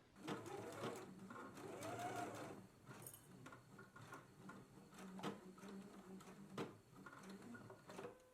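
A sewing machine stitches a side seam on a pair of pants in quick, rhythmic runs with short pauses between bursts, close and fairly quiet.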